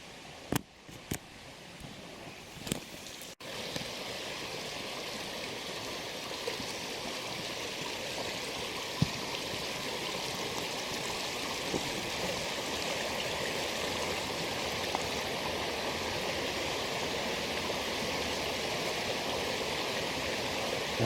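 A river in the Wicklow Mountains rushes steadily and close by, a constant broadband wash of flowing water with a few brief knocks near the start and no voices.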